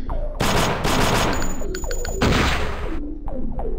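Rapid SMG bursts from the video game Thing Thing 3, loud, close and sustained through most of the stretch, with short pauses and a brief quieter break near the end before firing resumes.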